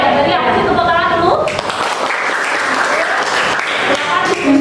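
Applause from a class or discussion group, a loud burst of clapping that takes over after a voice speaks at the start and carries on with chatter underneath.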